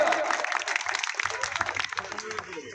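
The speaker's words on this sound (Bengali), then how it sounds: "জোরদার তালিয়া জোরদার তালিয়া" Audience applause at a local felicitation event, a crowd's clapping that fades under someone speaking over a microphone as it dies down.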